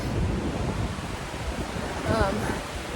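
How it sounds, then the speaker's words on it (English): Strong wind roars steadily in a dark dogwood forest, buffeting the microphone with a constant rushing noise and a slight surge near the end. "The noise is the wind. It is insanely windy at the moment"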